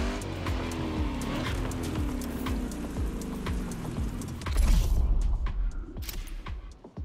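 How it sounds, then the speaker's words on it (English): A sports car's engine in the racing game The Crew Motorfest revs and shifts through falling pitch sweeps, ending in a loud burst before easing off, with no one talking. "Ooh, this car sounds pretty cool."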